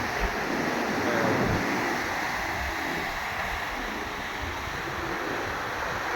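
Strong ocean waves break and wash up a sandy beach in a continuous loud roar of surf, with wind noise over the microphone.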